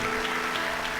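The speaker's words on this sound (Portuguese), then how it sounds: "Quer aplaudir a palavra? Aplaude." A church congregation claps at a pastors' gathering, a brief dense burst of applause filling the room with no voices over it.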